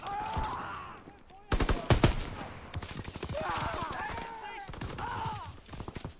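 World War II video game gunfire rattles in rapid automatic bursts and sharp single shots, some close and loud, others fainter, mixed with a player's voice, groans and game sounds.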